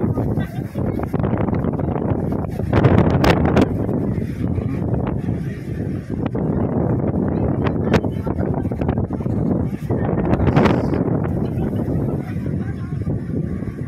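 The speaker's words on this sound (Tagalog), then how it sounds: "Ang hangin dito." Strong wind gusts roar across the microphone at a hillside windmill farm near a ravine in Pililla, a constant buffeting rush with louder surges throughout, while someone talks over it.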